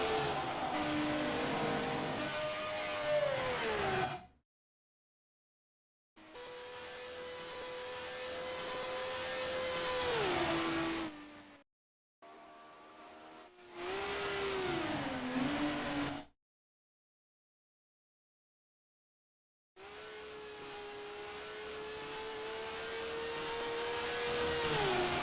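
Racing car engines from the Grand Prix Legends sim, a close single engine droning and revving with pitch falling on shifts and lifts, heard in several separated bursts broken by total silence.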